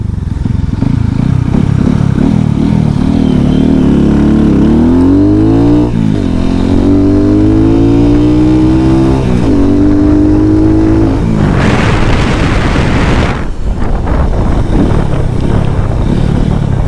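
A close KPR 200cc motorcycle engine revs and accelerates through several gear changes, its pitch repeatedly climbing, with wind rush rising at one point; no talking.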